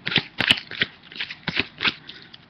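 Magic: The Gathering land cards from a vintage 70-card deck being shuffled and flicked, a series of short papery riffles and snaps in quick irregular bursts, close and fairly quiet.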